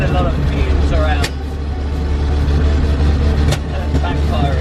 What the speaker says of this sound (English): with the exhaust pipe blowing like it is, it's deafeningly loud